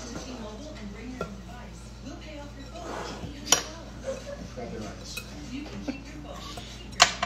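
Scone dough being mixed by hand in a bowl while baking at home, with soft, irregular knocks and clinks against the bowl, occasional sharper taps, and quiet talk in the background.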